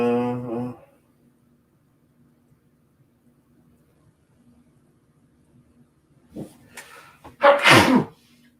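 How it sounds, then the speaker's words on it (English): A person sneezes sharply and loudly near the microphone after a short quiet gasping build-up, following a brief bit of speech and a stretch of near silence. "course I gotta sneeze."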